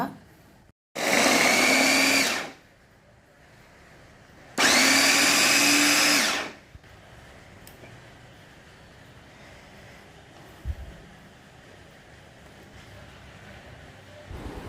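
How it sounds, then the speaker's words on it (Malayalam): An electric chopper or blender whirs in two loud bursts of about one and a half seconds each, mincing garlic and ginger for a Kerala-style shrimp pickle, followed by quiet background with a faint knock. "ഇതിലോട്ട് നൂറ് ഗ്രാം വെളുത്തുള്ളി ഈ രണ്ട് കഷ്ണം ഇഞ്ചിയും ചോപ്പ് ചെയ്തെടുക്കാം"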